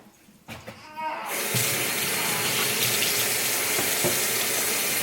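Tap water gushing into a sink for washing baby bottles, starting after a few soft clicks and then running loud, steady and close, with no pauses.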